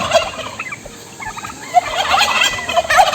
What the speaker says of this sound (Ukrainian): індик.